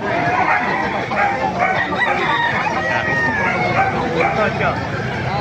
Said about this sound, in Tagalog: Papakita ko sa inyo mga manok dito sa Bukawi